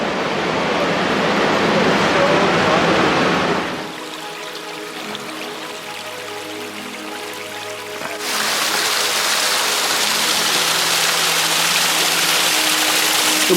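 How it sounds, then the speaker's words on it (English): Small waterfalls cascading beside a trail in the Silver Falls State Park rainforest, Oregon, a loud steady rush of falling water that dips quieter midway while a voice speaks, then surges back to full strength. "The little mini waterfalls right by the trail."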